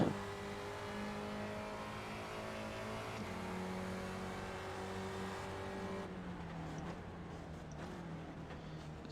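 Spec Racer Ford race cars in iRacing at Okayama drone steadily through sustained engine notes that shift pitch as they accelerate and downshift, with several cars running close together and no talk.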